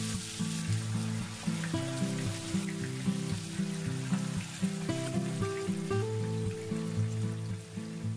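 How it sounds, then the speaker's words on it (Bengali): Marinated chicken pieces for chicken Afghani frying in hot oil give a steady, low sizzle under loud music with sustained tones throughout. "আমি এই ম্যারিনেটেড চিকেনের পিসগুলো 1-1 করে ভেজে নেব"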